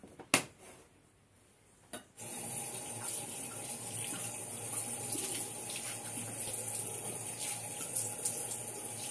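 Water from a sink tap runs steadily while a face is rinsed after applying skincare, starting with a few knocks and then a continuous close splashing flow with no voices.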